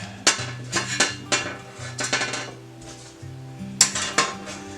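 Vintage metal utensils, a ladle and a sieve, clink and clatter against each other as they are unboxed, with several sharp close ringing hits spread unevenly and metallic tones lingering between them.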